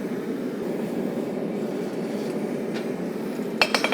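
A hammer peen lengthens a railroad spike being forged into a knife: a steady roar, likely forge or blower, fills the clip, and near the end a few sharp metallic strikes ring out in quick succession.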